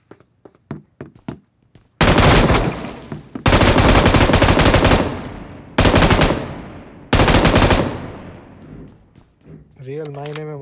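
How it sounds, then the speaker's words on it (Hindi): Machine gun fire in the PUBG battle royale game: long sustained automatic bursts, loud and close, separated by short gaps, with a few scattered single shots beforehand and a voice-like tonal sound at the end. "रियल मायने में मशीन गन चला रहे हो तुम?"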